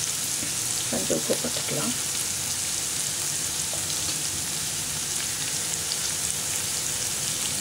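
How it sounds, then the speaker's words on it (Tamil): Onions sautéing in a pan for a Tamil potato fry, a soft continuous sizzle heard fairly quietly, with someone briefly speaking over it near the start. "வெங்காயம் வதங்கட்டும்."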